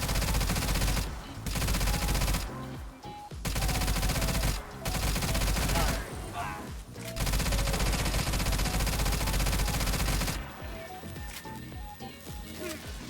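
Rapid automatic gunfire blasts in long sustained bursts broken by short pauses while a boss's glowing weak points are shot in a looter-shooter video game, loud and close with no talking.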